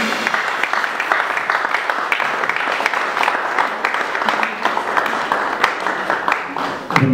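A church congregation applauds during a sermon, a long, dense stretch of clapping that stays fairly even throughout, with faint voices mixed in.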